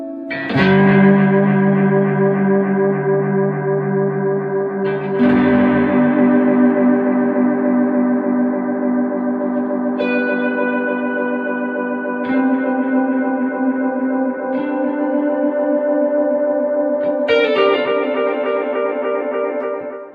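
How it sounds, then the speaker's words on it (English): Sustained guitar chords through a Blackstar Amped 2 ring out with a shimmering, washed reverb and delay, each new strum swelling into a long, glassy, echoing tail. "If I put it onto shimmer and put the delay on,"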